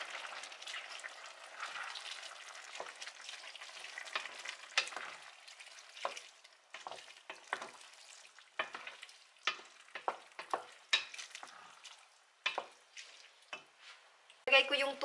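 Seafood pasta cooking in a pan: steady frying sizzle and stirring clatter as noodles go in, with irregular scraping bursts and speech over parts of it.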